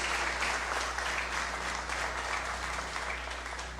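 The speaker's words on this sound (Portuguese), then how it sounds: "Vamos aplaudir ao Senhor pela presença dEle?" A church congregation applauds during an evening worship service, steady sustained clapping from many hands filling the room over a low hum, tapering slightly toward the end.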